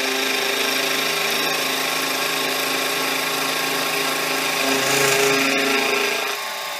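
Mini mill squaring the top surface of a workpiece, a steady close whine of spindle and cutter with harmonic hum, swelling slightly louder near the end before easing off.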